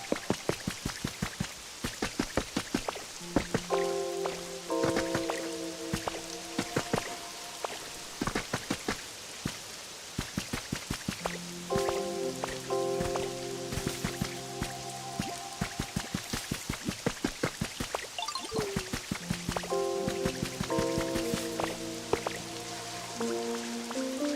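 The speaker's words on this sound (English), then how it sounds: "I like how it's still raining, by the way." Rain patters steadily in the Pokémon Pokopia video game, a dense stream of close drips and droplet taps running continuously beneath soft melodic game music.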